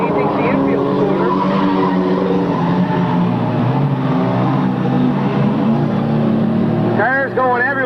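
Race cars skid and squeal on a racetrack during a 1998 race, a loud, dense roar of engines and tires throughout, with a sharp squeal near the end and a commentator talking over it.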